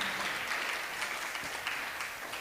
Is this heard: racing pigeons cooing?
no